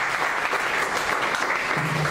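Congregation in a Spanish-language church service giving an offering of applause to God, a continuous, loud, even wash of clapping with no speech over it.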